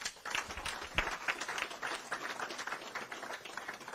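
Audience applause at an evening gathering of Kenyan professionals in Geneva, with dense, steady clapping that fills the room for the whole stretch and no talk over it.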